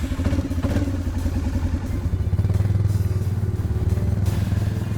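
ATV engines running at a hunting camp in Colorado, a steady low rumbling idle with mechanical clatter, close and continuous with no talking.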